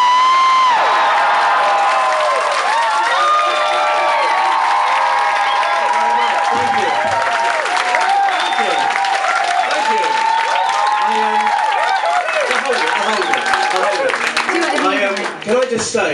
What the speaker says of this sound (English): A round of applause for the best band in Britain